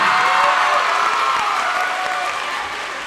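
A comedy club audience gives loud, continuous applause with cheering as a comic leaves the stage, a thick wash of clapping sustained close and full throughout.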